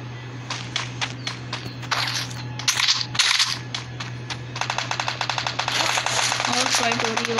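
Rapid gunfire from a Garena Free Fire match: clusters of sharp shots in quick bursts, with a dense run of fire near the end over a steady game hum. Someone talks during the shooting.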